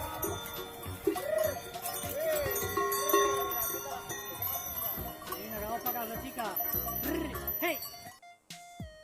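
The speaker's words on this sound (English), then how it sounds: "G for goat." Goat bleating in a children's alphabet song, several wavering bleats over bright music with bells, then a sudden cut near the end.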